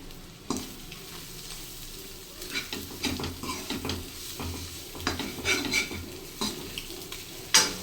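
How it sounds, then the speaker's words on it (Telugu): A spoon stirs and scrapes through egg curry roasting with chili powder in a pan, soft sizzling underneath and irregular clinks of utensil against metal. "దీన్ని అయితే ఒకసారి మంచిగా కలపాలి రోస్ట్ చేయాలి మంచిగా"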